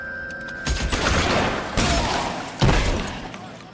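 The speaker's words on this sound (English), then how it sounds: "Shotguns in this game are terrible. They have such little range." Three heavy shotgun blasts in the L.A. Noire video game, each a loud close boom with a short decaying tail, spaced about a second apart over faint game ambience.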